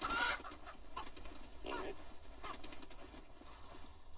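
A chicken clucks in the horror video game Pacify, a few short bursts over a faint, steady background drone, with some voice activity mixed in.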